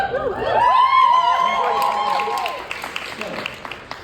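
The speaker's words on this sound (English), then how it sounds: "Thank you for the applause." A crowd at a live school music performance claps and cheers, voices rising loudly over the applause before it fades into scattered claps.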